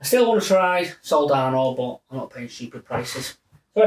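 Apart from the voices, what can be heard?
No distinct noise like a dog, phone or traffic.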